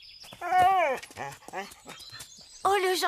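A cartoon dog whimpers with rising and falling whines, then gives short barks, close and fairly loud, with brief speech in between.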